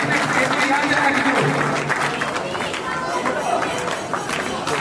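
An audience claps loudly and steadily at a weaver community gathering, a dense, continuous patter of hands while a voice speaks over it.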